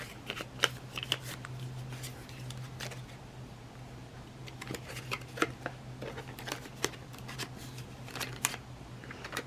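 Paper banknotes, a $20 and a $5, rustle and crinkle as they are slid into a cash-stuffing envelope, close and quiet, in a series of soft papery bursts with a steady low hum underneath.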